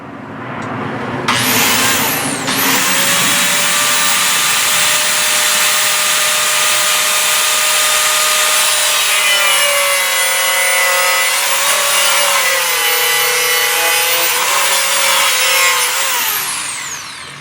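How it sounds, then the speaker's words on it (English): A Dremel Saw Max cuts through a longboard skateboard deck in one loud, steady, close whine lasting most of the clip, with a brief start-up and a slowing finish. "then of course I would flip it, cut these pieces off. The Dremel Saw Max, really it's a lot safer than trying to use a jigsaw."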